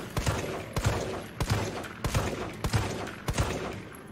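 Video game gunfire rings out in a steady series of sharp, evenly spaced shots, about seven in four seconds, loud and close with no talking over them.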